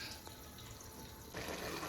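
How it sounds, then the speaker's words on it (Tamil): Coconut milk poured into a pan of fried onions for pulao, a steady liquid rush and hiss that grows a little louder near the end, with no voices. "இப்போ பாலை ஊற்றிடணும்."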